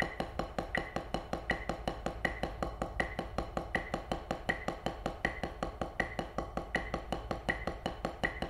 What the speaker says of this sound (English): this is 80 BPM. It's a measure of singles and doubles.